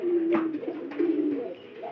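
A pigeon coos nearby in a soft, low, repeated rolling call, two or three phrases in quick succession with little else around.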